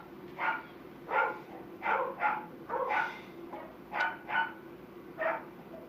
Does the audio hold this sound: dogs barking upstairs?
yes